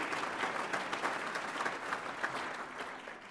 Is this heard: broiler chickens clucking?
no